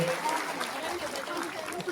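Crowd applause for the Chief Minister at a public event in Rikhnikhal, a steady dense clatter of clapping throughout, with a voice speaking over it.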